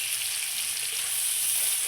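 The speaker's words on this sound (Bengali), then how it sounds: "আমি ঝিঙ্গাটা আর একটু ভেজে নেবো" Ridge gourd frying in oil in a pan, giving a continuous bright, hissing sizzle that stays steady and close, with no voices over it.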